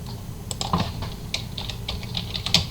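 Keys on a computer keyboard being typed while entering a name into a search field, a quick irregular run of close, light clicks for a few seconds with no talking.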